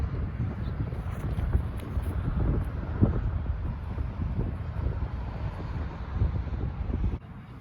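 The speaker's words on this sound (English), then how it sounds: "especially in some windy conditions like we're dealing with right now" Steady low wind buffeting the microphone outdoors during disc golf throwing, a continuous rumbling roar with gusty swells, ending abruptly near the close.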